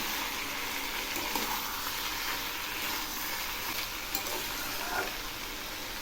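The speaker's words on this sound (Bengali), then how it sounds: "দেখুন, লাউগুলো অনেকটাই ভাজা হয়ে আসছে" Bottle gourd pieces fry in hot oil in a pan with ginger paste added, giving a steady close sizzle with a few faint scrapes from stirring, and no voices.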